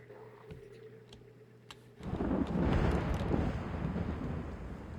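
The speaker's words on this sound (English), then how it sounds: "Was that lightning and thunder," Thunder from lightning in Hunt: Showdown, a deep roll that bursts in suddenly partway through and keeps rumbling loudly and steadily to the end, after a quieter low hum.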